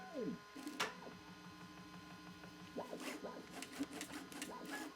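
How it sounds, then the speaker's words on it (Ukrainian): A Bambu Lab A1 mini 3D printer runs its auto-calibration, giving quiet motor whines, rising and falling stepper tones and small mechanical clicks and scrapes over a faint steady hum. "Зараз, я так розумію, принтер має калібруватися."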